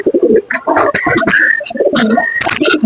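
A male Sirazi or Lakha pigeon coos and calls up close in a rapid run of throaty, bubbling phrases, with brief pauses between bursts.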